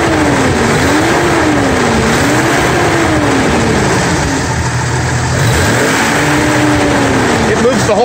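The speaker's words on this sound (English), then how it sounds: "it'll move a little bit when I rev the engine" Jeep XJ engine fitted with polyurethane engine mounts, revved repeatedly in rising and falling sweeps, loud and close, with the idle dropping back between revs.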